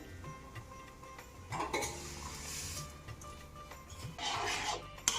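Fried vermicelli is stirred into upma in a pan, with a low sizzle, a couple of bursts of scraping, and light metal clinks from the spoon against the pan, all close and fairly quiet with no talking.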